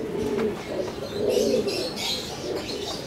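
Pigeons coo in low, rolling murmurs, several soft calls overlapping steadily with faint higher chirps over a constant background.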